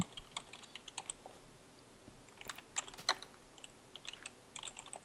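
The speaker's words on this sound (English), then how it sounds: "I heard you typing" Quiet, quick tapping of keys on a computer keyboard during Minecraft play, irregular bursts of typing with no voices.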